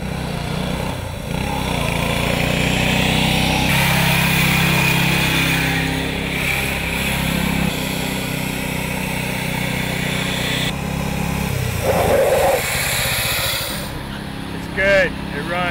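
An off-road Baja vehicle's engine runs steadily at night at a campsite, a continuous close rumble and drone over the whole stretch with people talking nearby.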